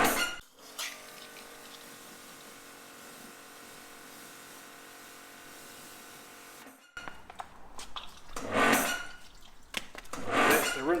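A water blaster pressure washer rinses a Subaru Impreza WRX, first a steady hissing spray for several seconds, then a sudden cutoff followed by uneven bursts of loud, sputtering spray.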